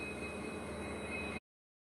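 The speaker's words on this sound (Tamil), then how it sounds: "கன்னியாகுமரி சூப்பர் ஃபாஸ்ட் எக்ஸ்பிரஸ் வந்து புறப்பட்டுருச்சு" Kanyakumari superfast express train departing, a steady, continuous rumble of rolling rail cars with faint high wheel squeal, constant and fairly near before cutting off abruptly.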